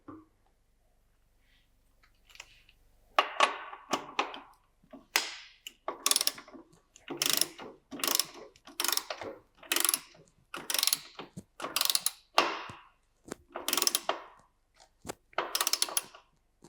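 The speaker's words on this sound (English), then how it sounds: "We'll go ahead and tighten the axle and see if that has any effect on it." A ratchet tightening the axle of a Yamaha R7 motorcycle, a close series of about a dozen rhythmic clicking strokes, each a short burst of pawl clicks with brief gaps between, following a quiet start.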